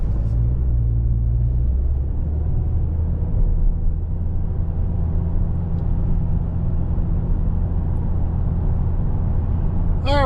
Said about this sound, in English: we're zipping down the road in this Corolla SE in the ice cap